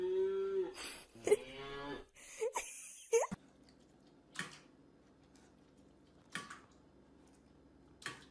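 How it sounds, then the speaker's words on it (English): A cow moos several times in quick succession, played back by a Google smart speaker indoors, with a few sharp knocks and thumps heard afterward. "Hey Google, what does a cow sound like?"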